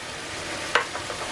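Soft, steady sizzling from a pan of minced meat and onions, a dense low crackle throughout with a brief scrape or clink partway through.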